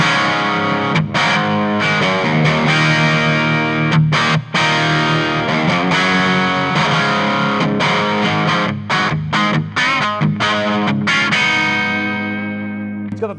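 Electric guitar played through a Victory Lunchbox amp on its vintage gain channel, giving a British rock crunch: distorted chords and riffs with short muted gaps, punchy and loud, no talking.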